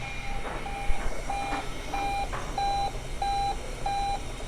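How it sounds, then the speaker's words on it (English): A machine in a restaurant kitchen dish pit beeps repeatedly, about seven evenly spaced short electronic tones over a constant background hum and clatter. "That shit keeps beeping."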